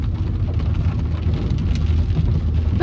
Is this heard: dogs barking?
no